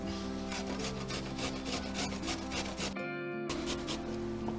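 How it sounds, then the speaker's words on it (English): Carrots grated on a cheese grater for a macaroni salad, a steady run of rapid rasping strokes close up, breaking off briefly before the rough scraping picks up again. "Carrots, gotta grate them up."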